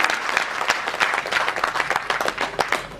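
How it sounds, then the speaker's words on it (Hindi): A crowd at an Indian political party gathering bursts into loud, sustained applause, dense clapping running steadily throughout with slight swells and no voices standing out. "जोरदार ताली बजा के साथी का स्वागत करें।"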